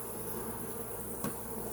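Steady, dense buzzing of many honeybees close by at a hive after a mated queen is introduced, a continuous droning hum with one brief louder swell near the end.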